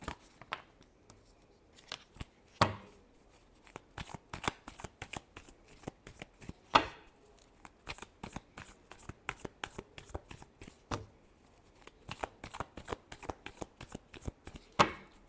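Tarot cards being shuffled by hand during a reading: quiet, close riffles and soft slaps of the deck repeat irregularly in short bursts, with no talk.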